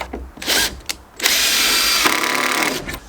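A screw driven into decking boards through a Camo hidden fixing tool with a power drill: short whirring bursts, then a sustained, loud, close grinding drive lasting nearly two seconds.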